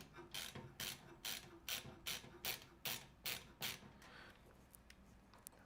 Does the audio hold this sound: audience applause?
no